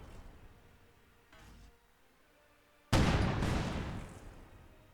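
A faint muffled boom, then a loud sudden explosion with a rumbling decay, followed by another softer blast in the distance, in the video game Company of Heroes 2.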